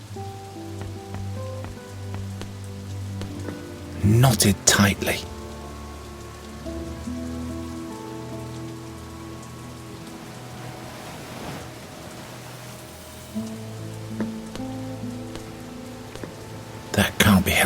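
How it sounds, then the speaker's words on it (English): Steady rain falls in a video game, a soft continuous hiss of drops on surfaces that runs throughout, with a few louder bursts and someone speaking briefly over it. "It must rain here quite frequently,"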